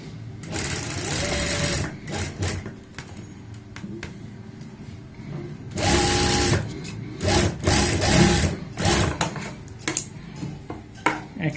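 A sewing machine runs in bursts, stitching triangle-shaped fabric pieces for a neck design along a marked line, with steady mechanical whirring, short pauses and clicks between runs; no talk.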